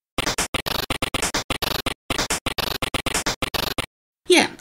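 Chiptune drum pattern played on an 8-bit noise channel in OpenMPT: hissy white-noise bursts in a fast, steady rhythm of snare- and hat-like hits, loud and alone, ending with a brief pause and one softer noisy tail.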